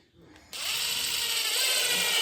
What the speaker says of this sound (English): I'm going to get my screws started